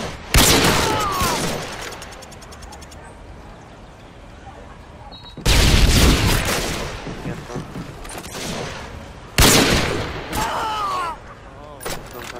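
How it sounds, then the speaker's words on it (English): Bursts of gunfire and explosive blasts in a tactical shooter video game, with three loud sharp bangs separated by quieter stretches and a clatter of shots, plus some voice chatter between them. "Throwing stun grenade."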